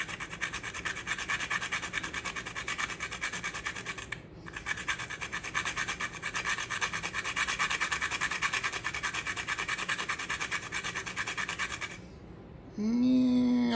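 Fresh whole nutmeg is scraped over a grater for cookie dough, a steady close rasping that runs continuously for about twelve seconds. A brief pause breaks it once, and a short clatter follows at the end.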